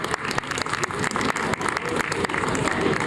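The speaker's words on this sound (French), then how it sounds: "Je vais vous demander d'applaudir Delphine Lorton, Joël Lecoq et Marie-Pierre" Audience applause in a hall at a science museum event as three guests are called up, steady dense clapping filling the whole stretch with no talk over it.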